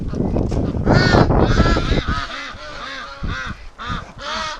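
Hungry breeding ducks call loudly for food at close range, a dense chorus of honking quacks that thins into separate repeated calls, with a person's voice briefly mixed in.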